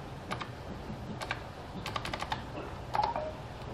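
Light, scattered key taps on an optical mechanical RGB keyboard, sparse and quiet with a short quick cluster near the end, no voices.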